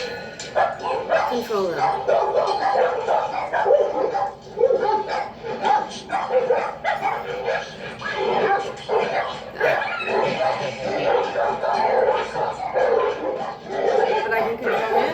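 Dogs barking, yipping and whimpering at a dog park, repeated excited barks close by, mixed with people talking throughout.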